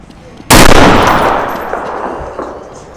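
Gunfire in an urban alleyway shootout within a video game: one very loud, sharp report close by, followed by a long decaying rumble and a few fainter later hits.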